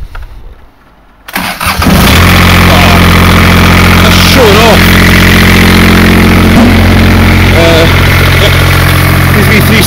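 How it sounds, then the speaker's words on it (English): A cold three-cylinder diesel engine with glow plugs cranks and catches after a quiet moment, then settles into a loud, steady, close idle with a low rhythmic throb; a voice is heard over it. "Three cylinders are no bother to start usually."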